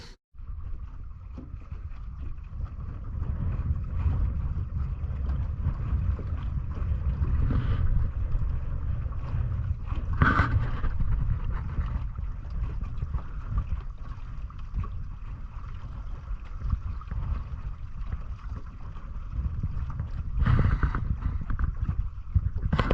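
Strong, cold wind buffets a small fishing boat on open water in May, a continuous low rushing roar with occasional louder gusts and faint knocks, no voices.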